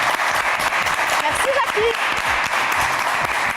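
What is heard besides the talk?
audience applauding contestant on talent show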